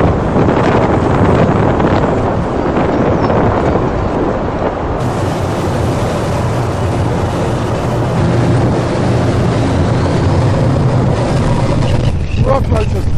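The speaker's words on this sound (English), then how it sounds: "We have Storm Kathleen hitting the island, and they're forecasting storm force 10 and 8 to 9 metre swells." Storm Kathleen's force 10 gale roars over a boat in rough seas off an island, with loud continuous wind buffeting the microphone and heavy water rushing throughout, no break in the din.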